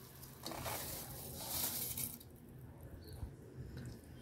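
Soaked rice poured into a pot of boiling milk and water for pea pulao, a steady watery rushing and bubbling wash close by with a brief brighter splash midway, no voices.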